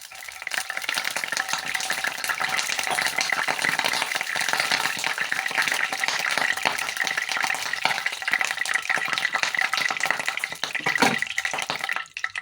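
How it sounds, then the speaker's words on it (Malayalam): A loud, steady hiss and crackle of water sprinkled into boiling mustard oil, sizzling continuously throughout with a brief sharper burst near the end. "എണ്ണ നന്നായിട്ട് തിളച്ച് കഴിയുമ്പോൾ അതിലോട്ടൊരു ശകലം വെള്ളം ഇങ്ങനെ കുടയണം"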